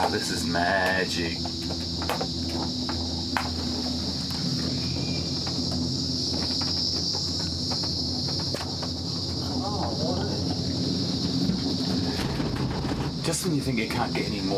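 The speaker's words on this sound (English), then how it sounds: "Hear the sound of the rainforest, the crickets, can you hear?" Crickets or cicadas droning steadily in the Kuranda rainforest, a continuous high whine with scattered clicks and rustles beneath.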